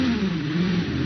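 Gould GR59J hillclimb car revving hard at the start-line launch of a British Hillclimb Championship run-off, a loud, sustained engine roar with a rising pitch that fills the whole short stretch.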